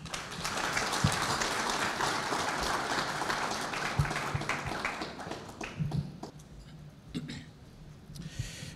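Audience applause after a lecture on leading organizational change, a broad wash of clapping through the first few seconds that thins to scattered claps and coughs toward the end, moderately quiet in a hall.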